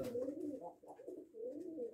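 Pigeons in a dovecote cooing softly and continuously, low rolling throaty calls repeating in gentle waves, faint and close with no voices.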